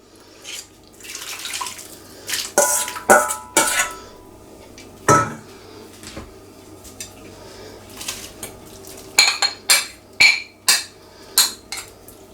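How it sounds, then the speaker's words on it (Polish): Grated carrot, celery, onion and beef tripe tipped into a pot of broth for Polish flaki soup, a run of clattering scrapes, knocks and wet splashes against the pot, close and uneven, with quieter gaps between. "warzywa i flaki wrzucamy do wywaru"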